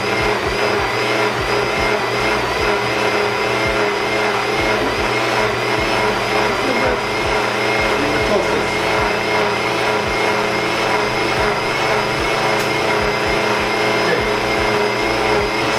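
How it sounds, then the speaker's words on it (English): A kitchen blender whirring steadily through butternut squash and ginger soup, a loud, continuous motor drone with a churning texture that runs unbroken from start to finish. "Blend it nicely."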